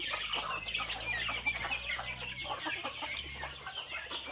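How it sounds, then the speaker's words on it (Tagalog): Chickens cluck and murmur continuously in a rural backyard coop, with scattered overlapping calls from several birds at moderate distance and no talking. "Tapos madaming manok."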